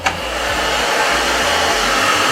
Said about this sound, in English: That's why we have this hand dryer here.